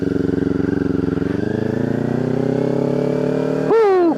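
A motorcycle engine climbs steadily in pitch as it pulls away in first gear, loud and close. Near the end the revs peak sharply and drop back at a shift, with no talking.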